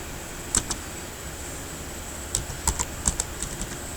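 Keys on a computer keyboard click in short, sparse clusters while data is entered into a spreadsheet, crisp and close against a faint steady hum.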